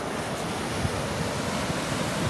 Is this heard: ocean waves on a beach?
yes